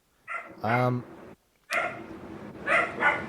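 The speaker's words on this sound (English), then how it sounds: "So, DCL, you have dogs over there? You a dog man?" A dog barks several times, a sharp bark followed by a louder, longer yelping bark, then a pause and a few more barks, fairly close.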